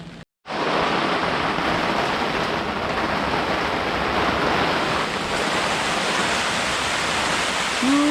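Heavy rain pours steadily onto a wooden Tahiti gaff cutter, a dense unbroken hiss that starts abruptly after a brief pause and holds loud and close for the rest of the clip, with wind in it and no voices.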